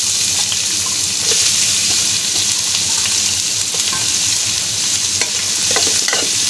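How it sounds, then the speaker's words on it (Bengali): Onions dropped into hot oil and frying, a loud, dense, steady sizzle with occasional stirring scrapes and light pops throughout, no voices. "তেলের পরে এই তেলের ভিতরে আমি দিয়ে দিব কিছু পরিমাণে পেঁয়াজ"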